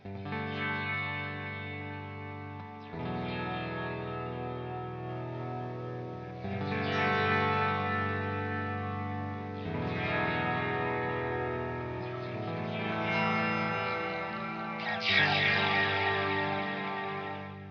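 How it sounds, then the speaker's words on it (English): An effected guitar runs through a pedal with the tone knob turned fully up, giving a brighter edge; a series of strummed chords ring out every few seconds, loud and steady with no voices. "If you really want to hear that effect, turn the tone knob all the way up."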